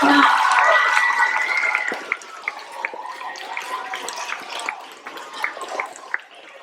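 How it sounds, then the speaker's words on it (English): An audience applauds at an elementary school stage performance, with a brief tonal voice at the start giving way to several seconds of dense, crackling clapping that gradually thins out. "And we're gonna give you all a round of applause."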